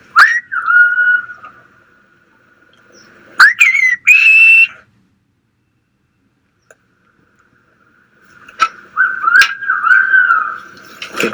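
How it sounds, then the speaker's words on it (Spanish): Silbo gomero, the whistled language of La Gomera, as sharp piercing whistled phrases with gliding, warbling pitch, given in two or three bursts separated by a long silence, clear and fairly close. "El silbo gomero, de origen africano, no ha sido exclusivo de los pastores."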